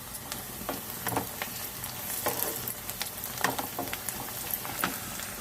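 Onions frying in oil for a Sunday chicken kurma, a close, steady sizzle broken by soft scraping strokes of a spoon stirring the pan at an uneven rhythm, with no voices.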